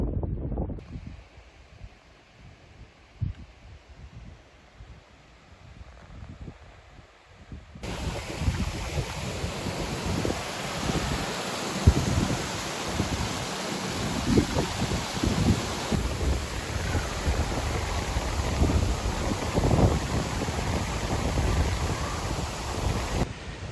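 Wind gusts across an exposed mountain top on Cadair Berwyn in Wales, starting as a softer rumble and then swelling into a louder, steady roar that buffets the microphone, with no voices.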